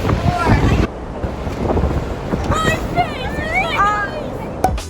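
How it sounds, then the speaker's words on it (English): Gusty, cold winter-storm wind buffets the microphone with a steady low rumble, while a few people talk nearby and a brief whistle-like tone rises partway through. "It is so cold, it's windy"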